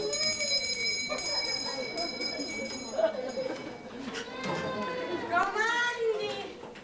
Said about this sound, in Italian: C'è il campanello.